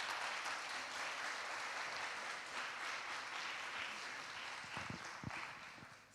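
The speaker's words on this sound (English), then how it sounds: "Please, can we give her a huge round of applause?" Sustained audience applause after a talk at a Saturday hall gathering, a steady wash of many hands clapping at moderate level for several seconds, thinning slightly toward the end with a few sharper individual claps standing out.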